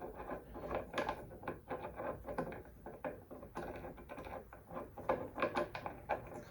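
Flywheel puller being worked on a 1992 Honda CR250 two-stroke engine during teardown: close, irregular metallic clicks, taps and ratcheting scrapes in a steady busy patter, with no talk.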